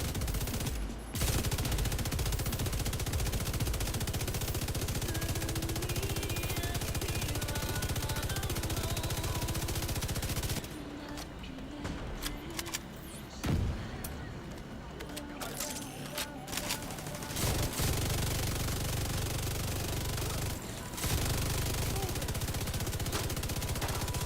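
Sustained bursts of light machine gun fire in The Division 2, loud and nearly continuous with a brief lull midway, mixed with game effects and a voice talking.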